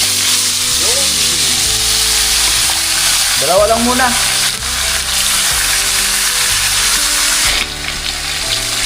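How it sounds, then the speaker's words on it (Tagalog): Milkfish fries in hot oil in a pan, a loud steady sizzle with bursts of crackling as pieces settle, while a person speaks briefly over it. "Umpisa na po natin magprito."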